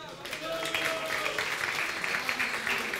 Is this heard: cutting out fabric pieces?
no